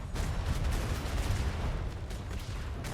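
Ship cannons in a naval video game fire in a rapid, overlapping barrage, a dense stream of booming shots and rumbling impacts that stays loud for the whole burst.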